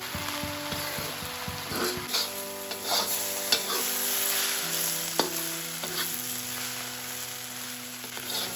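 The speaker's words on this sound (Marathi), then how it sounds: "मिरची चांगली भाजून घ्यावी कांदा भाज्या जवळजवळ अर्धा तास लागते" Chillies and onions roasting in a pan for homemade black masala, a continuous sizzle broken by scraping stirs and clacks of a spoon against the pan, heard up close with no talking.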